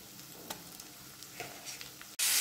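Chicken marinated in turmeric, salt and oil frying in a pan for Bihari-style curry, an even close sizzle with soft stirring scrapes, then an abrupt loud burst of hissing at the end.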